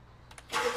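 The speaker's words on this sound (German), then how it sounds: "Motor an." A truck engine in the video game Beer Factory cranks and catches in the last half second, rising from near silence to a steady broadband roar.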